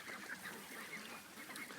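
Several ducks call outdoors in a loose string of nasal, honking quacks that overlap and repeat, fairly faint and unaccompanied by speech.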